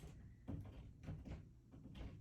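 A door being fiddled with during a move out of state, several short knocking and rattling bumps spaced roughly half a second apart, close and fairly quiet.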